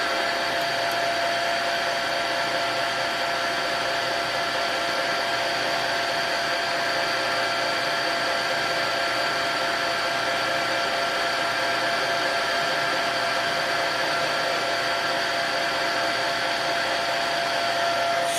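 A lathe drilling a center hole runs with a steady, loud whirring drone and constant tonal hum, unbroken throughout with no voices.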